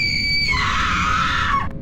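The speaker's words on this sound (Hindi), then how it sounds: "प्रिया अचानक चीख मारती है" A woman lets out a single sharp, loud scream as a horror-story sound effect, a sustained high shriek lasting under two seconds before cutting off.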